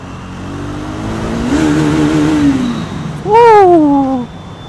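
Triumph Speed 400 motorcycle engine revving up with rising, wavering pitch, followed by a short sharp high rev burst near the end; fairly close and loud.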